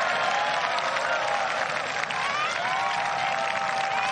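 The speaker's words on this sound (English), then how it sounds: "Whipping up the crowd into a frenzy." At the final round of the Honda LPGA Thailand golf tournament, a gallery applauds a birdie putt with sustained, dense clapping and some cheering, steady throughout.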